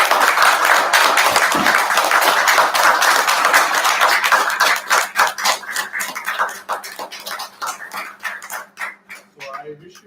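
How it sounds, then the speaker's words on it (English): A Toastmasters meeting audience gives a dense round of standing applause that thins into scattered individual claps toward the end, with a voice speaking over the fading clapping. "we give them a standing round of applause for those who complete levels"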